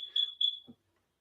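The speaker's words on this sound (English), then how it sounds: "our smoke detector is going a little wonky" A smoke detector that is malfunctioning chirps in two quick high beeps, faint and fairly close, followed by a soft low thump and silence.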